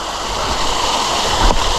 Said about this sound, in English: coming across a little tiny waterfall here